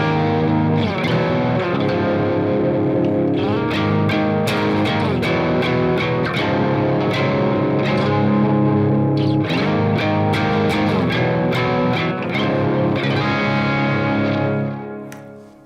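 A Telecaster electric guitar on the bridge pickup plays a grungy, distorted 90s-style tone, strummed chords and riffs ringing loud and continuous with effects coloring the sound and no talking.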